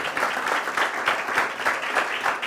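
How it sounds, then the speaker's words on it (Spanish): A church congregation claps along in a steady, rhythmic beat, with loud, even pulses of many hands repeating at a brisk tempo in a reverberant hall. "¿Cuánto le dan un fuerte aplauso al Señor?"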